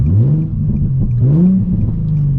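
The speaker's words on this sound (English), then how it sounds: "We'll do an in-car acceleration with the windows up, just so we don't have the wind noise" Interior sound of a Nissan 350Z fitted with a Megan Racing exhaust, windows up, accelerating hard with a deep droning engine note that climbs, drops at a shift, and climbs again, steady and loud throughout.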